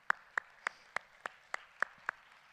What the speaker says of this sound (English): why don't you all give yourselves a round of applause for helping make this happen